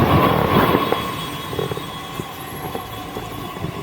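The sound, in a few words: metro train arriving at station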